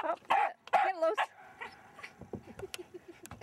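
A dog barks and yips close by at a fish, a few sharp loud barks at first, then whimpering and smaller yelps trailing off.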